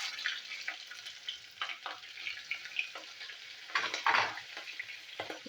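Panch phoron five-spice and green chilies crackling in hot mustard oil, a busy close sizzle with sharp spits and bursts, no voices.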